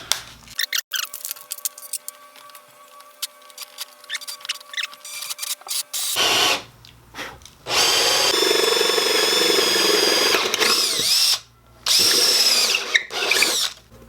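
A power drill bores a hole through the wooden body of a homemade electric guitar, with light tapping and handling first, then several loud grinding bursts broken by short pauses.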